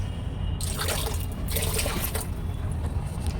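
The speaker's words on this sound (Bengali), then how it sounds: "এই গরম জলটা আমি ঠান্ডা জলে মিশাই" Hot water is poured and swished by hand into cold bath water, a close, steady splashing and trickling that runs throughout with faint background noise.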